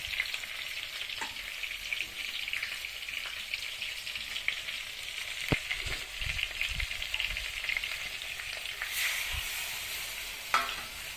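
Eggplant bharit masala simmers in a pan over a village wood-fired stove with a little water added, a steady soft sizzle and bubbling with occasional stirring scrapes and clinks, no voices.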